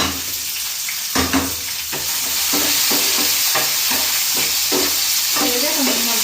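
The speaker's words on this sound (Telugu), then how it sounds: "ఇప్పుడైతే ఉల్లిపాయలు అయితే వేసేసుకుంటాను." Chopped onions fry with curry leaves and cumin in a pan of hot oil, a steady broadband sizzle running throughout with repeated scraping stirs of a spoon, close and loud, with no talking.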